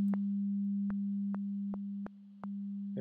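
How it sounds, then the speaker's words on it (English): Synthesized sine tone spread across an array of speakers holds a steady low pitch, with brief clicky pulses breaking in about every half second as it shifts in phase. "you can hear that this is kind of like a spatially distributed sine tone"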